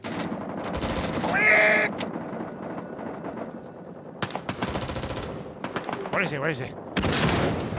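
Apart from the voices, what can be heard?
gunfire in video game Rising Storm 2: Vietnam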